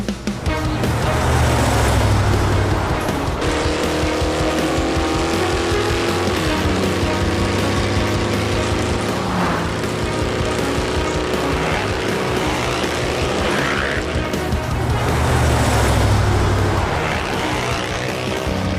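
Cartoon motorbikes ride along a road with loud, continuous engine drone and revving, pitch rising and falling as they speed past, with brief squeal-like swells.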